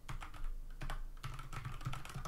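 Steady, fairly quick typing on a Velocifire VM02WS mechanical keyboard with MX Brown clone switches, a run of close, soft-edged clacks with a few brief pauses and no talking.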